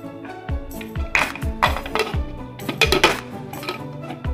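A metal pressure cooker lid is handled and set back on a pot of beans, giving a series of sharp metallic clinks and clanks spaced irregularly, fairly close and moderately loud, with no voices.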